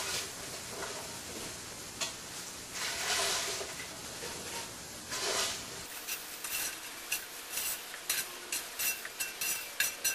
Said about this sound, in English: I like to tilt my pan up a little bit to let all the oil run to the bottom of the pan, and then just sort of shovel my okra out